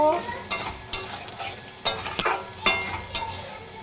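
A spoon stirs pointed gourd and prawn curry with ground cumin in a pan, scraping in repeated strokes over a soft, steady sizzle, close up and without talk.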